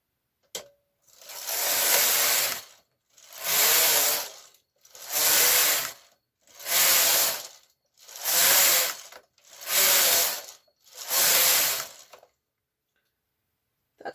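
A knitting machine's garter carriage knits rows in seven long, evenly spaced mechanical passes, each a loud whirring rasp that swells and fades, separated by brief pauses, close and alone.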